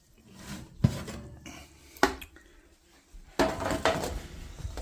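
Oven door and metal baking tray knock and clatter as butter toffee pretzels are pulled out of the oven, a few distinct bumps followed by a louder sliding rattle.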